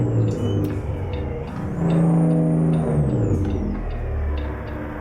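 A Kenworth W900 King-of-the-Road TX Edition truck runs its Jake engine brake, a loud, close, throaty stuttering drone that rises and steps down in pitch as the rig slows, heard from inside the cab.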